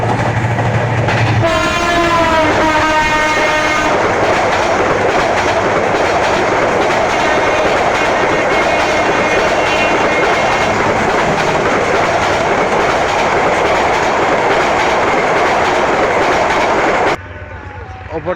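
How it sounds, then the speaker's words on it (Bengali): Dhaka-bound intercity 703 Mohanagar Godhuli, hauling Chinese-built coaches, passes Hasanpur railway station: a horn sounds briefly near the start, then loud, continuous rolling roar and wheel clatter fill the scene until the train clears abruptly near the end. "ঢাকা অভিমুখী আন্তনগর 703 মহানগর গুদুলি হাসানপুর রেল স্টেশন অতিক্রম করে যাচ্ছে"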